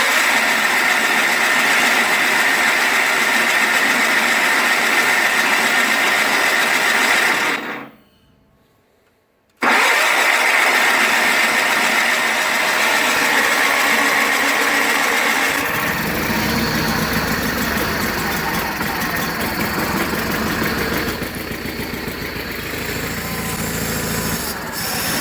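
A 1985 John Deere 318 lawn tractor engine, cold after three months, runs loud and steady with a rough mechanical clatter, cuts out briefly, then picks up again and settles into a smoother idle.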